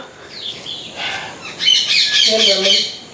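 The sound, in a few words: bird chirping kee kee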